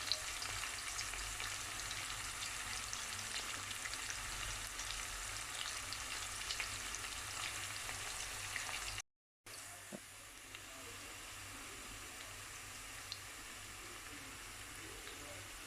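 Onions and a curry leaf fry in a pan, giving off a continuous hissing sizzle that briefly cuts out and then resumes slightly quieter.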